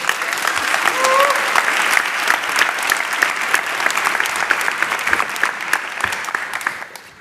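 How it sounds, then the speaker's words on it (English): Audience at a talk on effective altruism applauds as a guest is called to the stage, a full, bright burst of clapping that holds steady and then fades away at the end. "give him a round of applause"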